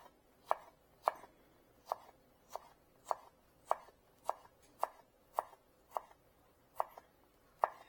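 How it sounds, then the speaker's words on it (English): A knife chopping hot peppers into small pieces on a board, about a dozen crisp, evenly spaced strikes in a steady rhythm, close and clear with no speech. "I just chop them up into little pieces"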